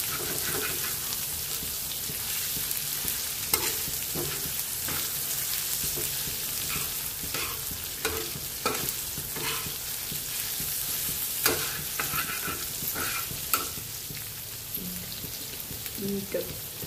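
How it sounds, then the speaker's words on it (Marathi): Chopped onion sizzles steadily in hot oil in a pan, with scattered clicks and scrapes as it is stirred, a constant moderate frying hiss throughout. "कांद्याचा कलर बदलेपर्यंत त्याला तेलामध्ये परतून घ्यायचं आहे कांदा"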